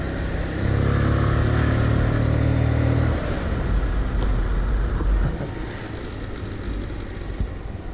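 A 100 cc motorcycle rides along steadily, its engine drone loud and constant with a buzzing, slightly wavering tone that eases a little partway through, over continuous wind rush and no talk.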